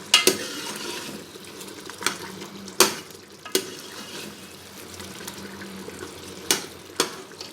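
Mutton with tomatoes stir-fried on high flame, a soft continuous sizzle broken by several sharp scraping stirs of a spoon against the pot.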